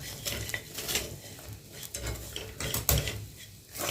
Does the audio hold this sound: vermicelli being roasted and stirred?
yes